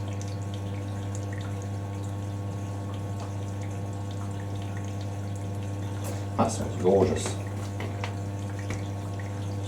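A Hoover A3060 Electronic 1100 washing machine fills with water, a steady low hum and rushing flow running throughout, with a brief spoken comment and some handling noise partway through.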